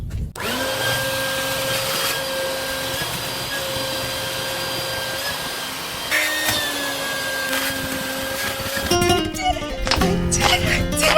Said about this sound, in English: So now I just have to get the vacuum and have at it.